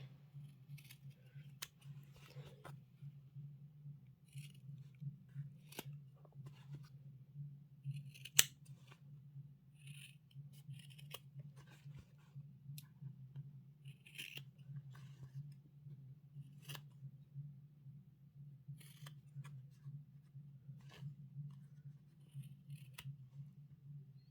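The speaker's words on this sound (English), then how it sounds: "I'm going to trim my corners" Scissors trim fabric corners while sewing a crossbody bag, a series of quiet, crisp snips spaced irregularly over a low steady hum in a calm room.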